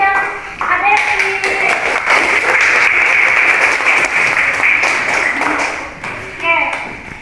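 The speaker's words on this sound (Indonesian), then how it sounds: "Beri tepuk tangan buat Rofi dan Adevi." Applause from a school audience after two pupils answer a lesson on earthquakes, a steady wash of clapping lasting several seconds with voices and brief vocal sounds mixed in.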